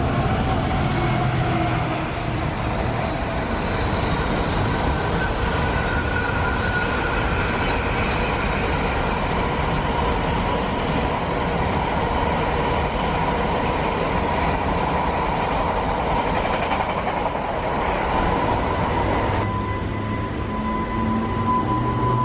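A passenger train from Crewe to London runs through at speed, a loud, continuous rumble and rattle with metallic wheel noise heard close throughout, no talk over it.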